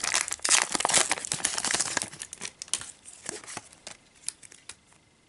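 Cardboard tears and crinkles as a heavily glued Pokémon card display box is forced open: dense, loud ripping bursts at first, then thinning into scattered crackles and snaps.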